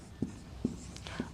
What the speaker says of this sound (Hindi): अलका मित्तल के सामने लिखेंगे